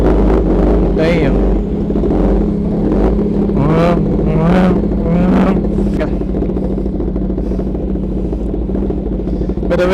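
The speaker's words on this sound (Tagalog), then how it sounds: "So this is a cold start." Kawasaki ZX10R sportbike engine idling loudly and steadily after a cold start, a continuous low rumble with voices talking over it.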